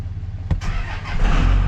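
A second-generation Dodge diesel truck engine cranks briefly and then catches, building into a loud, rough idle up close, with no talking over it.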